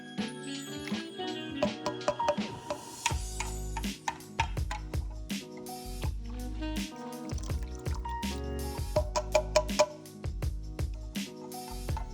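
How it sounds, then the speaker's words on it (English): Twenty ounces of water are poured into bottles of Cinestill CS41 colour film developer chemicals, with close, irregular splashes, glugs and small clinks over a quiet background. "so we're just gonna pour it all in."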